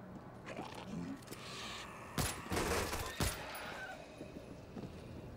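Gunfire in the zombie shooter World War Z: a few sharp loud shots crack out amid low background noise, spaced irregularly over a few seconds.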